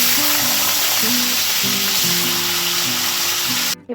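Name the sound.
potato pieces frying in a pan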